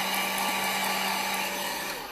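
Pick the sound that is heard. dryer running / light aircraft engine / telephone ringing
dryer running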